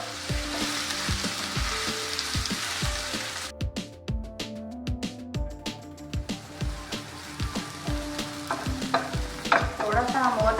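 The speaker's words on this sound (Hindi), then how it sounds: "थोड़ा सा हम और प्याज को फ्राई करेंगे" Onion for anda ghotala fries in a pan with a steady crackling sizzle, while regular scraping stirs and taps of the spoon sound against the pan, close up.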